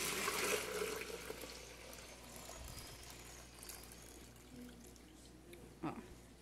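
Heated milk is poured into a lidded bowl during homemade cheese making, a soft liquid splash and trickle that is strongest at first and then thins to a quiet, steady flow.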